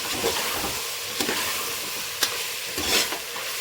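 Ginger garlic paste frying in a pan for chicken biryani, a loud continuous sizzle with several sharp scrapes and clicks from the stirring utensil, close up and without talk.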